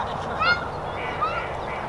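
Ducks honking and quacking in a short burst of calls over steady outdoor background noise, with two clearer calls standing out, moderately near.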